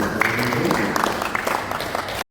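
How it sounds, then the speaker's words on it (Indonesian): An audience at a Papua special autonomy seminar in Jayapura applauds a speaker, steady dense clapping from a roomful of people lasting a couple of seconds before cutting off abruptly. "Saya juga berikan aplaus untuk Bapak Syekh Satu"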